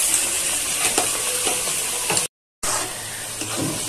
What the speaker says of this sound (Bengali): এবার আমি কষাতে থাকি, একটু কষিয়ে নিই ভালো করে